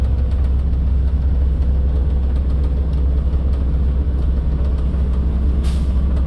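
A bus idles with a steady low engine rumble and air brake compressor hum, then a short sharp whoosh of air bursts out near the end as the compressor cuts out at 120 PSI.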